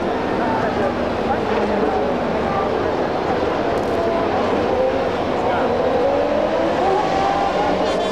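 Formula 1 cars of the 1994 season pouring into Tosa corner at Imola, a steady loud roar of multiple engines throughout with shifting whining pitches as they sweep through the turn, under a commentator's voice.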